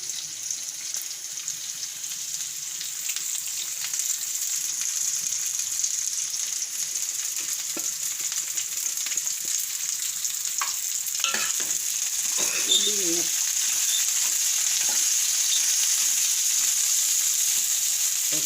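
Cabbage frying in a pan with potatoes and green chilies, a steady sizzle throughout with stirring scrapes and clatter growing busier toward the end; no talking.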